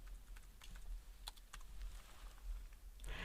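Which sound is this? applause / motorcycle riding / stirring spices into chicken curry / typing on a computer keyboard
typing on a computer keyboard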